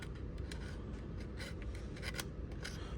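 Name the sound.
knife cutting a pocket holster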